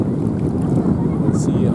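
Steady wind buffets a sailboat on warm water, a dense, continuous low roar of air rushing past the microphone, loud and close throughout.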